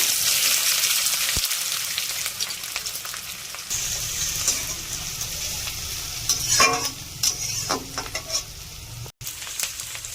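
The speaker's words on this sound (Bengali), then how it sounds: "তেল গরম হয়ে গেছে, দিয়ে দেব 1/2 চামচ কালো জিরে, দেব পেঁয়াজ কুচি" Black cumin seeds and chopped onions fry in hot mustard oil, making a loud, continuous sizzle with crackling bursts and occasional stirring scrapes throughout, up close and with no talking.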